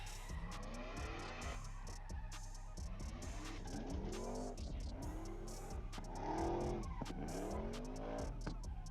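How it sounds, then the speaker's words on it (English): A supercharged truck doing a burnout at a SEMA show event, its engine revving in repeated rising and falling sweeps with a high supercharger whine and screeching tires, heard at moderate distance against crowd noise. "That truck must have a supercharger on it, because you can hear a whine."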